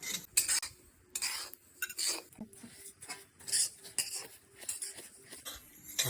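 Colored mukhvas mouth freshener being stirred and mixed with a spoon, giving a series of close, irregular clinks and scrapes against a metal dish with brief pauses between them.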